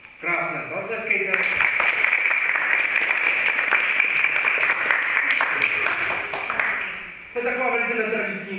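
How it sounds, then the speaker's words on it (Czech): An audience claps warmly after a contest round, steady applause sustained for several seconds with brief talk at the start and end. "Krásné, zatleskejte."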